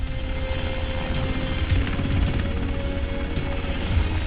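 A helicopter used to insert special-forces divers into water, a steady continuous rotor and engine drone holding at constant loudness throughout, with a faint tonal whine above it and no speech.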